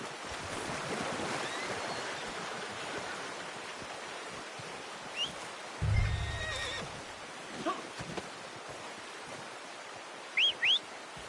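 A horse gives a couple of short, sharp whinnies near the end, following a low snort, over steady outdoor background noise, with no talking.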